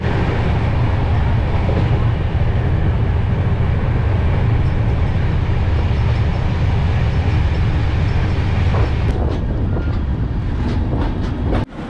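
The Vaishali Express passenger train runs loud and near with a steady rumble and rhythmic wheel clatter, then brakes and squeals on arrival in Bihar; no one speaks.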